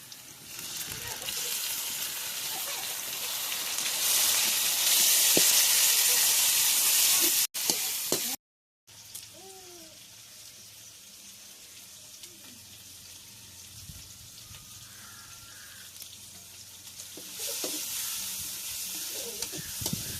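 Chopped tomatoes hitting a hot pan for bitter gourd gravy, a loud hissing sizzle that surges then drops to a softer, steady crackle after a brief break, with stirring and faint voices.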